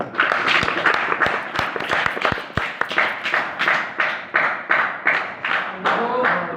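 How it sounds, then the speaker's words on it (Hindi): A classroom audience of ITI students claps in a burst of sharp, uneven hand claps that fade into quieter scattered clapping, with faint voices underneath. "एक बार फिर तालियां।"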